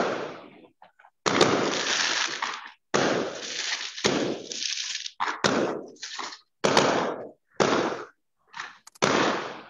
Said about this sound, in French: Ce sont nos voisins arabes à Jérusalem qui ont l'habitude de tirer des feux d'artifice très régulièrement.